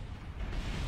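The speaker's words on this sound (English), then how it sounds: "Explosion!" Rocket crash explosion in Kerbal Space Program, heard as a brief, muffled, rumbling low burst that swells midway through and stays dull and quiet.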